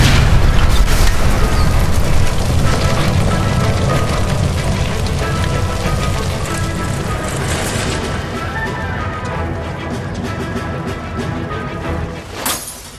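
A gas line blows up in L.A. Noire, a loud, sustained booming explosion with crashing debris that rumbles on for over ten seconds and trails off, ending with a final sharp burst.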